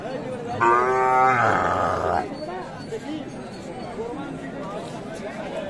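A cow lets out one loud, drawn-out moo up close at a cattle market with Sahiwal calves and cows, followed by a steady murmur of people talking and general crowd noise of a busy outdoor market.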